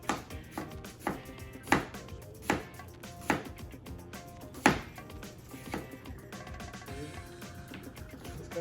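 Knife slicing vegetables for carne guisada, a Mexican meat stew, landing in a series of sharp, irregular chops on a cutting board. The cuts are moderately loud and close, with no talking.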